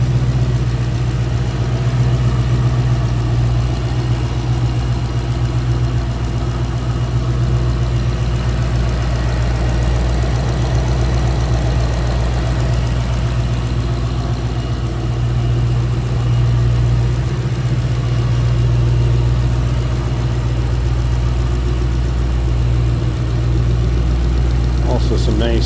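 The Roushcharged 5-liter V8 of a 2012 Ford Mustang GT idles steadily and loudly up close, a deep even rumble with a faint ticking texture and no revving.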